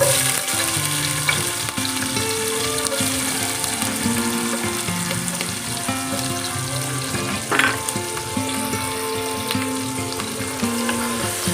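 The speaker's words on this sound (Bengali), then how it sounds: "ক্যাপসিকামগুলো সব ছেড়ে দেবো" Capsicum pieces frying in hot oil while making pulao with gobindobhog rice, a steady crackling sizzle running throughout with occasional stirring scrapes and clinks, close and moderately loud, with a steady tonal hum underneath.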